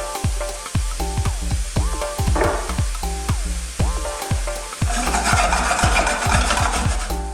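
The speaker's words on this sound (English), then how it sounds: "straight into that pan, I'm going to just add our shrimps or prawns" Cleaned shrimp or prawns go into a hot pan for sweet and sour shrimp, with rhythmic scraping and knocking of a utensil against the pan and a sizzle that swells louder in the last few seconds.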